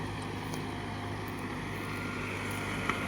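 A large tractor pulling a heavy harrow in a field runs its engine at a steady, droning idle, close and constant, with a faint click near the end and no talking.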